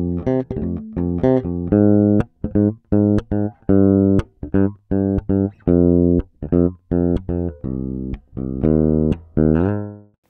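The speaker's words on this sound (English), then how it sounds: "give that rear pickup a bit more attention and then slightly boost the treble, and you get a really nice thumpy kind of tone from it" Cort Deluxe Plus electric bass played on the rear pickup with the treble slightly boosted gives a thumpy tone: a quick, funky run of short punchy plucked notes with sharp attacks and gaps, loud and close, no voices.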